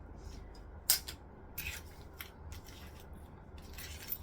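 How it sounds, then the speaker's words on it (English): Zipper scissors trim excess jelly vinyl while a pouch is being made, giving a few faint, crisp snips and rustles scattered over a quiet background. "I'm just going to take my zipper scissors, cut it off."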